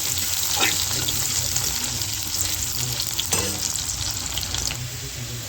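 Onion and dried chili fry in hot oil with a dense, loud, continuous sizzle heard up close, and a few faint scraping or stirring strokes rise out of the crackle.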